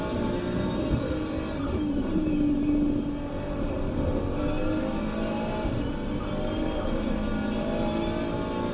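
A race car engine in the racing game Assetto Corsa Competizione at Donington Park, holding a steady, loud, continuous drone with slight pitch shifts throughout and no voices.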